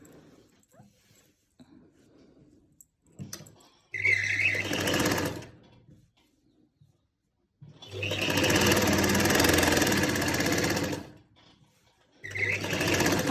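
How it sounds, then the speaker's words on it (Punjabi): A sewing machine stitches pleats on a lined shirt in two long loud bursts and a shorter one at the end, with quiet pauses of fabric handling between runs. "ਆ ਲਓ ਜੀ ਆਪਣੀਆਂ ਪਲੇਟਾਂ ਸਾਰੀਆਂ ਦੇ ਉੱਪਰ ਆਪਾਂ ਲਗਾ ਲਈ ਸਲਾਈ"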